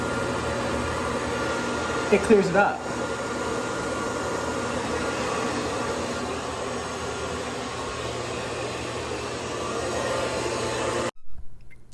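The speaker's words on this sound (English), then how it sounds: "Turn on your hair dryer to hot." Hair dryer set to hot, blowing in a steady loud whooshing roar that runs throughout and cuts off near the end, with a person speaking briefly over it.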